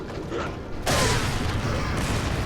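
A grenade goes off in the video game Resident Evil 4: a quieter stretch gives way to a sudden loud blast that stays rough and rumbling to the end of the short moment.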